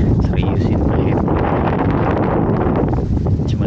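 Strong wind buffets the microphone on a hilltop overlooking a lake, a loud continuous roar with gusty rumble, while voices are heard speaking underneath.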